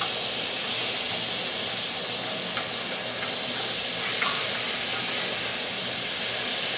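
Butter melts into about two tablespoons of leftover oil in a pan after frying squirrel, giving a steady, close, dense sizzle and hiss that never lets up, with no voices.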